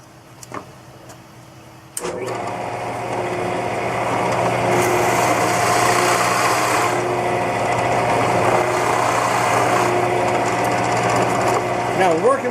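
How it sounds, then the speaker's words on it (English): Shopsmith multipurpose woodworking machine drilling holes for a golf ball joint with a Forstner bit, a steady high-pitched motor whine starting abruptly after a brief click and continuing loud and close without pause. "Now we're ready to drill some holes."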